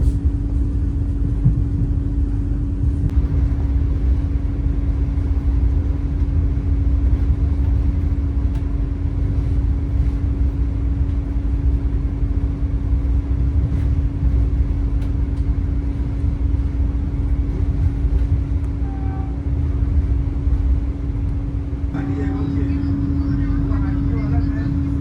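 Vande Bharat express train pulling out of Udupi, heard from inside the coach: a steady low rumble with a constant motor hum, continuous and moderately loud, with faint cabin sounds near the end.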